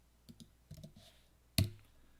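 Computer keyboard and mouse in use while cutting and pasting a command, a few soft scattered taps followed by one sharper, louder click, close and quiet.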